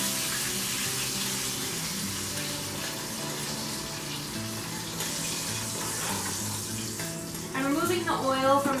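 Farmhouse fried chicken sizzling in a hot pan on the stove, a steady close frying hiss with occasional stirring scrapes, faint background hum and a burst of louder clatter near the end.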